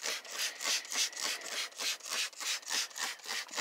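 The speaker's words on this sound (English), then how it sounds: "I'm just going to kind of agitate it with the microfiber cloth" Microfiber cloth scrubbed back and forth over a heavy stain on interior car carpet, producing rapid rhythmic rubbing swishes, close up with no voices.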